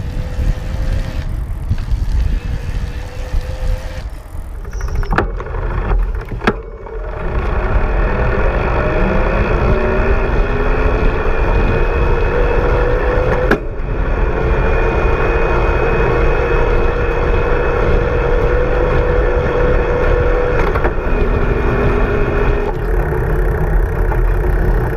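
BULLS Lacuba EVO E45 e-bike motor pulling up a big hill at around 13 mph, a steady close mechanical hum with wind and road noise, sustained throughout with short dips.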